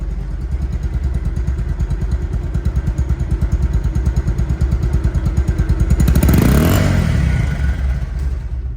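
A second-hand Bajaj Pulsar DD motorcycle engine runs steadily close by with a fast, even thumping idle, then a short rev swells louder near the end before settling back.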